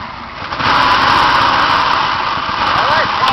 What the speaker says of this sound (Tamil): ரிவர்ஸ் கியர் போடியா ஸ்லோவா போ நீங்க அவசரப்பட்டு போயிடாத பயப்படாத இந்த வண்டி வேகமா வராது